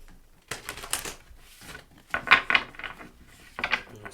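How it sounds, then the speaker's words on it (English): Tarot cards being shuffled in quick riffling bursts with soft papery flutters and taps, a few separate rounds close up, no voices. "I'm just going to shuffle one more time"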